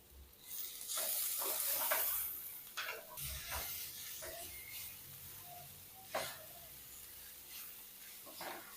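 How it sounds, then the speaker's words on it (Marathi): Sliced onion and grated coconut roast in a pan for a Malvani mutton curry, a low sizzle broken by repeated scraping stir strokes, with faint background voices. "खोबरे व कांदा एकत्र करून आपल्याला तो लालसर होईपर्यंत भाजायचा आहे"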